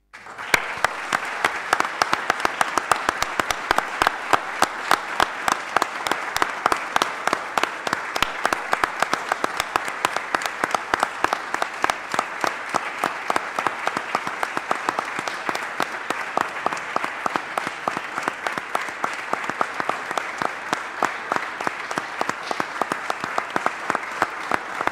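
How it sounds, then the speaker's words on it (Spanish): A minute of applause in a legislative chamber session, rhythmic unified clapping in a steady regular beat, loud and sustained throughout without a break. "hacer un minuto de aplauso"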